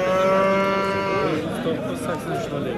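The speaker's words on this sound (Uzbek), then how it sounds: "8 oylik buzoqlar." An eight-month-old calf lets out a long, loud, close moo at a busy livestock bazaar, followed by crowd chatter and people talking.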